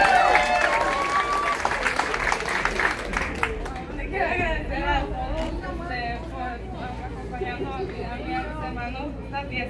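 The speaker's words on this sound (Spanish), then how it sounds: "Así que los aplausos para Karen, por favor." Party crowd at a quinceañera-style celebration breaks into applause and chatter, a dense wash of clapping that carries on under loud overlapping voices and music-like tones through the whole stretch.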